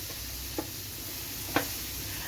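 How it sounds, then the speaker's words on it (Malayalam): Ripe banana pieces sautéing in ghee, a steady close sizzle with two light spoon taps on the pan. "അതിലേക്ക് നമുക്ക് ഈ ഏത്തക്ക കൂടി ഒന്ന് ചേർത്ത് നമുക്കൊന്ന് വരട്ടിയെടുക്കാം"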